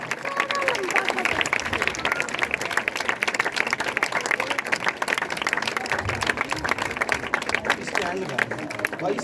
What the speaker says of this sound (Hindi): आपकी जोरदार तालियों में।